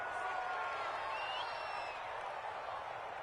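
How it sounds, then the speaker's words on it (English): A stadium crowd in a Madden football video game reacts to a penalty call, producing a steady, fairly faint wash of crowd noise with a few whistle-like tones rising above it. "Well, this crowd does not like that call."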